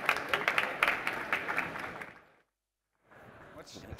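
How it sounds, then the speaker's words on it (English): Audience applause for a speaker at a trade-show panel session, a dense wash of clapping that fades out after about two seconds, followed by a brief pause and then low room noise. "So big applause for Damien, who goes first"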